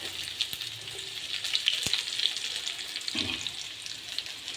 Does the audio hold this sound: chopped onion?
yes